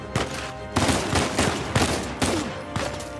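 Shotgun fire in the video game Uncharted 4: five or six heavy blasts in quick succession, loud and close, each with a short booming tail, with no talk over them.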